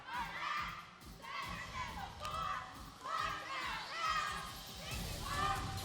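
High school cheer groups cheering at a game-night event, repeated shouted chants from a group of voices in bursts, with thumps from tumbling and crowd noise behind, moderately distant.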